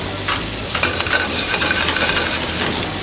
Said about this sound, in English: We saute,